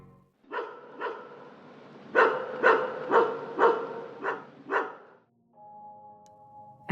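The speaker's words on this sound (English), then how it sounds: "The faint chorus of stray dogs arguing politics." A pack of stray dogs barks in a ragged series of about eight loud, harmonic yelps, a few spaced apart then several in quick succession, followed by a brief quieter tonal hum at the end.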